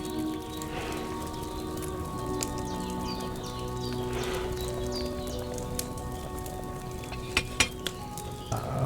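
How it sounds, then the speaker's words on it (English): A pot over a fire in Kingdom Come: Deliverance 2 bubbles and sizzles in a steady, soft simmer, with a few sharp clinks of a utensil toward the end. "Wait, is it boiling now or is it just simmering?"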